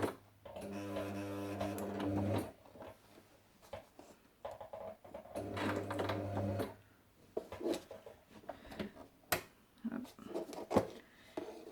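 A Lidl sewing machine stitches through a sheet of paper in two bursts of rapid mechanical whirring, each lasting a couple of seconds, followed by scattered clicks and handling noises.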